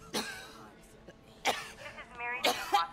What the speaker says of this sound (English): Oof, she's coughing up blood.